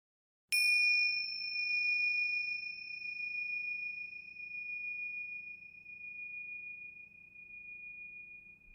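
A single bright bell ding strikes sharply and rings out, its clear tone slowly fading over several seconds above a faint low hum.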